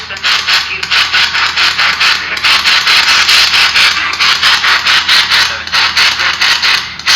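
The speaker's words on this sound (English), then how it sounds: "the sweep sound is pretty loud compared to the SB7 amplified FM and detuned AM" A P-SB11 spirit box scanning radio sweeps loudly through stations, a steady wash of hissing static chopped into a fast, regular pulsing rhythm that runs unbroken.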